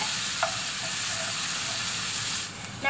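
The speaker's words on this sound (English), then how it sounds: "I'm just going to pop in my corn." Corn kernels sizzle loudly in melted butter in a hot pan, a dense steady frying hiss with a few small pops, easing off near the end.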